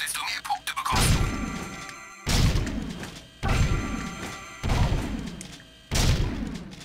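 In a shooting gallery in the video game Jak 2: Renegade, several loud, sharp gunshot bangs ring out one after another at roughly one-second intervals, each with a short echoing tail, after some quieter clatter.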